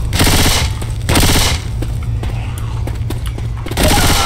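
Sustained automatic weapon fire from Left 4 Dead 2, with loud rapid bursts that pause briefly and then resume, plus a steady low rumble beneath and faint voices in the background.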